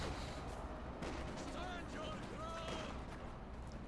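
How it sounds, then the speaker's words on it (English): Artillery shells booming in the World War II strategy game Company of Heroes 2, in a 3v3 match on the Across the Rhine map, a steady rumble of distant blasts and gunfire mixed with whistling shells under continuous battle noise. "Artillery's coming down this sector."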